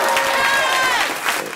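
A comedy-club audience at a Josh Johnson stand-up set cheers and applauds throughout, dense clapping with whoops and shouts rising over it, loud and close, no one speaking.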